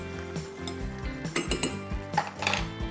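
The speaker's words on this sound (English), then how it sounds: "Give it a stir." Spoon stirring frozen peas in a cooking pot, a few scattered metallic clinks and scrapes over a low background hum, close and fairly quiet.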